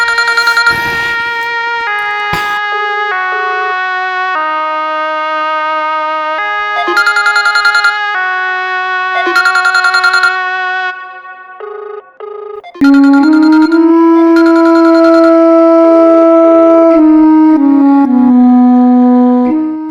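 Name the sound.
phone ringing unanswered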